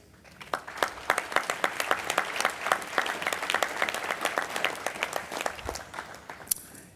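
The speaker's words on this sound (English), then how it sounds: "So we applaud them for upholding the spirit of community." An audience at an architecture awards gala claps, with distinct individual hand claps building into steady applause at moderate distance, tapering slightly near the end.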